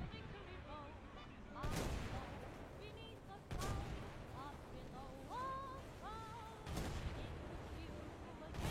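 Gunfire in a video game: a few sharp, loud shots spaced a couple of seconds apart ring out over a busy, tonal game soundscape, with no talking.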